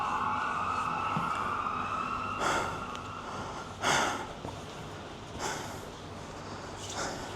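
An ambulance siren wails steadily, its sustained tones holding throughout, broken by several short noisy bursts at intervals, loud and fairly close with no speech.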